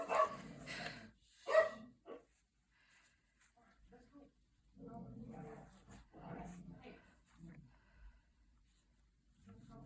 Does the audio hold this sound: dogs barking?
yes